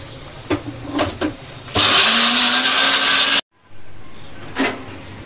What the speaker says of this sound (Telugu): నేను ఫస్ట్ అయితే పచ్చిమిర్చి పేస్ట్ మెత్తగా పట్టేసిన కదా